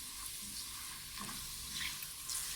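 Fenugreek powder, asafoetida and chili powder fry in a pan for a dates pickle, giving a soft, continuous sizzle with faint scraping as they are stirred.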